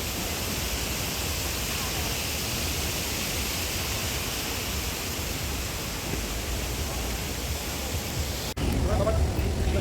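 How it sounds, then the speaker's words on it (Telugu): Artificial waterfalls at a park in Hyderabad pour out a steady, loud broadband rush that fills the scene without a break. A brief dip near the end is followed by a slightly different, closer wash of water. "అప్పటికి వాటర్ ఫాల్స్ కూడా స్టార్ట్ అయ్యాయండి."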